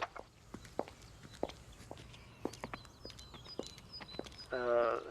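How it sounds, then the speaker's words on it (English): Footsteps of several people pass along an outdoor footpath: a steady series of distinct, fairly close steps over soft street ambience, ending in a louder burst of sound. "I hear the footsteps of people walking past me on the footpath."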